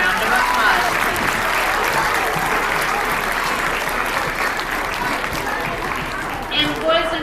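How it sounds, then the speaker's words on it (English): Applause from an audience at a veterans honoring ceremony, dense and sustained throughout, loud and close with a slight swell near the end. "Let's give him a round of applause."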